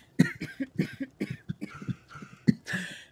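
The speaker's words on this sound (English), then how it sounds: "to the sounds of lots of coughing in the palace room" Several people in a video game palace room cough repeatedly in quick, irregular bursts, some sharper and closer than others, with brief gaps and no talking.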